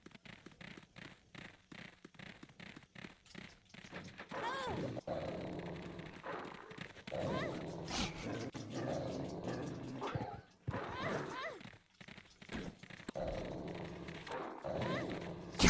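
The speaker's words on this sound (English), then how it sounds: "Totally getting mauled by the dogs." Snarling dogs attacking in the Resident Evil video game, bursts of growls, barks and rapid scuffling mixed with combat sounds, with people talking over the game audio throughout.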